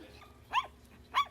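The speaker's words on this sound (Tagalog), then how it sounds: "And tumatahol." A three-month-old Shih Tzu puppy recovering from parvovirus and distemper gives two short, high yelping barks about half a second apart, close by and fairly faint over quiet room noise.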